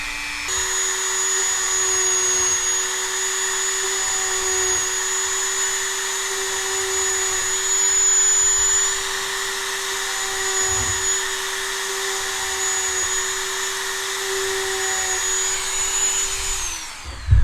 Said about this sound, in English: So when you Dremel it like this, it usually fills in the holes.